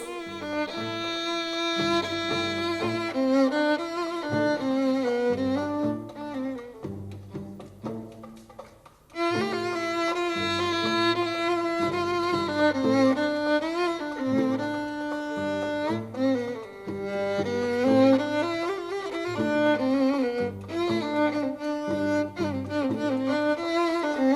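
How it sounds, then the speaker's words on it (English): Arabic-style violin plays a continuous ornamented melody with sliding pitches, with no pause beyond a brief dip near the middle, loud and close, alone with no talking. "Arabic style violin sounds like this."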